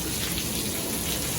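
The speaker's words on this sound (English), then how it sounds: "Started raining really hard though" Heavy rain pours down hard and steadily at an outdoor amusement park, a dense, even hiss of drops striking surfaces with no voices heard.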